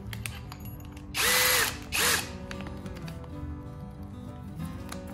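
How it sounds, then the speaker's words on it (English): A SKIL PWRCore 20v cordless drill with a half inch bit bores into a 2x6 in two short whining bursts, the second briefer, between quieter stretches of workshop background. "let's do some more drilling here into this 2x6"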